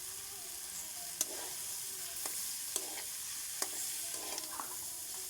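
Boiled noodles tossed in a pan with chopped tomato and turmeric for chow mein: a soft, steady sizzle broken by a few sharp scraping stirs, fairly quiet, with no talking.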